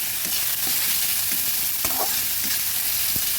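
Chopped tomatoes fry with salt in a pan, a loud continuous sizzle layered with repeated scraping and stirring strokes of a spoon, close and busy, with no voices.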